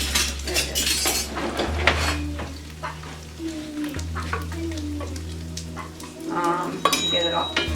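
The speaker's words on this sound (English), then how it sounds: "So you don't need to see me frying the rest of that." Food fries in a pan for a breakfast casserole, a steady sizzle with spoon stirring and occasional clinks of utensils throughout, close and moderately loud.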